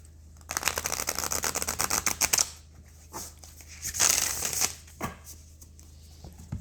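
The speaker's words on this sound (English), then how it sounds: "do a little shuffling" Rapid riffle shuffling of a Botanical oracle card deck, close and crisp: a long burst of fluttering card snaps, a pause, then a second riffle and a few short shuffles.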